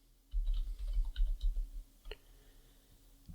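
A computer keyboard used to enter a zip code: a quick run of soft, close key clicks in the first two seconds, then a few sparser taps fading out, with no talking.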